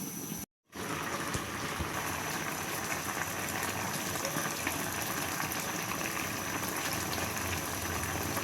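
Coconut milk cooks in a pot, giving a steady, loud bubbling hiss that fills the whole stretch after a brief gap near the start, with no talk.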